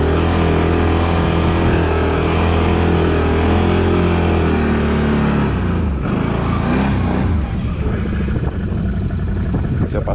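A Can-Am BRP Outlander 1000 XMR ATV on Gorilla 30 tires churns through snow, its engine loud and close, droning steadily and then revving with shifting pitch as it strains forward.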